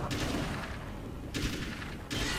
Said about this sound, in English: Oh, yeah, that gun feels good. M16, baby.